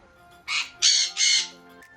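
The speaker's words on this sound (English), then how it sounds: "They're screaming the whole video." Pet parrots scream in three harsh, loud bursts in quick succession, each lasting about a third of a second, close by and with no talking.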